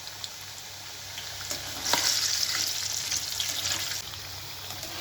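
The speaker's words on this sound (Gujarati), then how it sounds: "થોડી વારે એને ઉથલાવતા રહેવું અને એને ગુલાબી રંગના તળીશું." Corn flour shakarpara frying in oil at medium heat, a close, steady sizzle and bubbling with a brief louder burst of crackle midway, gently stirred, no voices.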